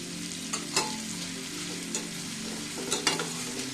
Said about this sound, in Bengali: এই সময় বাদামটাও হালকা ভেজে নিতে হবে।